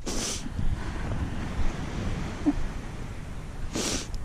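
Beach waves on Rabbit Island near Nelson, a steady broad wash of surf mixed with wind buffeting the microphone, with brief louder gusts at the start and end and no voices.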